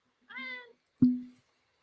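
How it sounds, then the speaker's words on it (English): A cat meows twice in quick succession, a drawn-out mew followed by a short, lower chirp, close and clear in a quiet room. "Excuse my cat, y'all."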